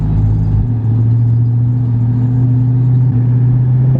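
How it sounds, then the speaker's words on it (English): A 2018 Dodge Charger with Super 10 mufflers and a resonator delete holds a steady, loud, low exhaust drone close by, with a slight dip in pitch as the revs shift. "Car sounds so good."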